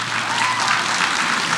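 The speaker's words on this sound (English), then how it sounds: "Let's give a round of applause for our diehard fans." A packed convention audience at a My Hero Academia voice actor panel at Rhode Island Comic Con breaks into dense, steady applause that holds at full strength for the whole moment, close and loud.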